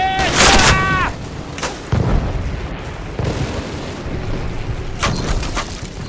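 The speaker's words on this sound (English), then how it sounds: "Mortars!" Mortar explosions and gunfire in the Call of Duty burning-village battle: loud booming blasts over a continuous rumble of combat, with a voice shouting briefly at the start.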